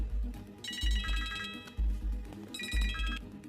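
A telephone ringtone plays in two bursts of bright, melodic electronic tones over a thumping low beat.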